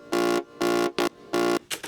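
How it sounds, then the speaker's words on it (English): Buzz saw synth for a dubstep remix: harsh, sustained buzzing notes in a choppy pattern, three longer bursts broken by short ones, loud and alone. "layered it with this kind of buzz saw sound"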